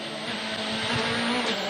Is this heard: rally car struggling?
yes